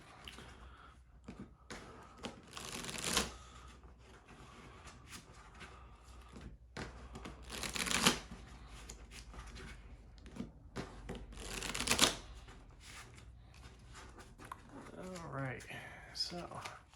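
Cards from a pro wrestling promoter tabletop game are shuffled several times, bursts of riffling and slapping card noise close by, with someone talking between and over the shuffles.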